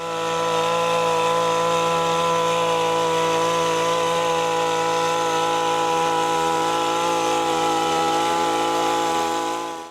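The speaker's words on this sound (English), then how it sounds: "This is Stihl hedge trimmer, popular for its efficiency and accuracy." A Stihl hedge trimmer runs at a steady, loud engine whine for the full stretch, holding an even buzzing drone with slight wavering and no pauses.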